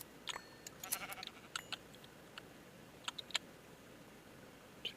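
Sheep bleating in the Minecraft modpack Enigmatica 2, several short, fairly faint game bleats scattered through the clip over a quiet background hiss.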